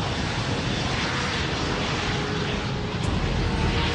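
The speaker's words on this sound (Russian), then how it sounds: "Самолет приближается к Сиу-Сити," A constant, loud roar of a DC-10 airliner engine fills the air as it approaches Sioux City, broad and unbroken, swelling slightly toward the end.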